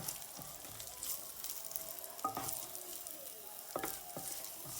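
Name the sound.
carrots and celery frying in olive oil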